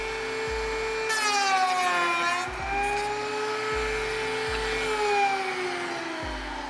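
Wood router cutting a rabbet joint, a loud steady high whine with rising and falling pitch as the bit bites, broken by repeated low thumps at regular intervals across the pass.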